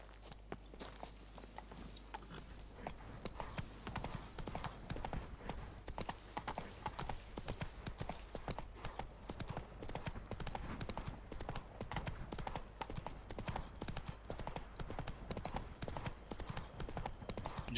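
Horse hooves clip-clop steadily in The Witcher 3, a brisk, even walking rhythm of hoof strikes over a low constant hum, fairly loud and continuous throughout with no talk.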